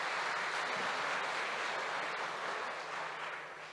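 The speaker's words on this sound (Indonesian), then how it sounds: "Tepuk tangan untuk beliau lagi." An audience applauds a speaker at a university institutional capacity-building event in Mataram, a dense, steady clapping that fades slightly toward the end.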